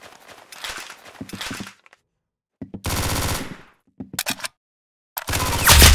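Bursts of rapid automatic gunfire in the video game Arsenal, loud and close, coming in several separate volleys with short silent gaps between them and no talking over the shots.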